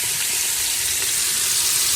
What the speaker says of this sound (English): I've removed the salt pork, but I've kept the grease, which is a very nice secret step, which will infuse that wonderful pork flavor into the